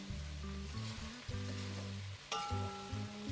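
Okra stir-fry (thoran) with small shallots sizzles steadily in a pan as it is stirred, with occasional clinks from the utensil and a sustained tonal hum underneath.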